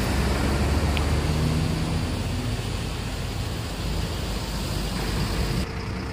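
PBP Cendana bus rolling into a parking area, a steady broadband engine and road rumble close by, continuous and fairly loud with no talk.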